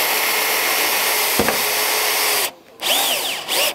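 Bosch GSB 180-LI cordless drill driving into wood on a steel-framed roof job, a loud steady whine that drops out briefly near the end, then resumes in short bursts.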